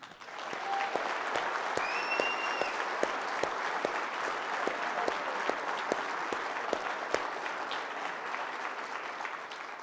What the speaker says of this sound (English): give a rousing round of applause to our 86 first-time members today